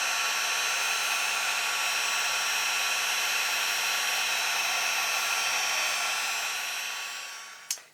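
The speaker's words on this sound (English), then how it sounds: "I'm letting my heat tool get warmed up, and then I will melt the embossing powder." A heat tool for melting embossing powder blows steadily as it warms up, a loud continuous whooshing hum with a faint whine, close by, ending with a quick click as it shuts off.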